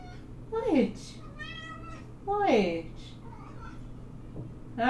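A kitten lets out three distinct, high rising-and-falling meows spaced a couple of seconds apart, close and fairly loud, with faint background hum and brief human vocal sounds between them.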